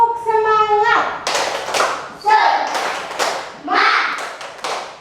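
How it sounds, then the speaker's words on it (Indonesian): Schoolchildren in a classroom do a rhythmic spirit clap together, sharp bursts of clapping alternating with a teacher's voice and the class chanting in unison, all close and loud. "ayo kita buat tepukan semangat"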